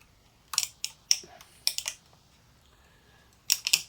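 Film being wound on in a Topcon Unirex 35mm SLR: a few short mechanical clicks and ratcheting bursts in quick groups, close and crisp, separated by quiet pauses.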